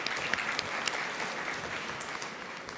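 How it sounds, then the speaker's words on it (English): Steady applause from a conference audience at a tech event, dense and even clapping with a few sharper claps standing out, filling the room without any talk. "Can we have applause for the volunteers with the microphones as well?"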